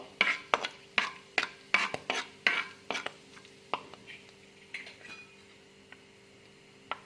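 A spoon clanks against a pan while frying and stirring for palak paneer, a series of sharp metallic taps in an irregular rhythm that thin out over time, close and fairly quiet, with no talking.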